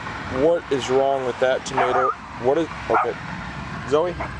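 Zoe, a pet dog, lets out a run of several sharp barks in a garden, close to the microphone and mixed with a person talking.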